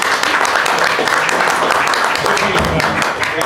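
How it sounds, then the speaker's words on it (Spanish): A roomful of people gives a loud, sustained round of applause for a deputy at an evening forum, the clapping thick and continuous from start to finish. "y un fuerte aplauso para el diputado."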